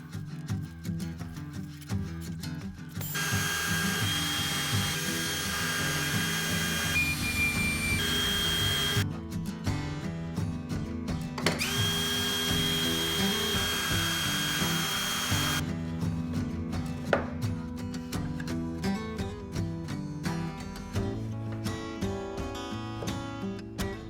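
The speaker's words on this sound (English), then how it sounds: "and then drill my pilot holes." A power drill bores pilot holes through the wooden roof of a simple DIY birdhouse, whining loudly in long sustained runs with a shifting pitch and short pauses between bursts.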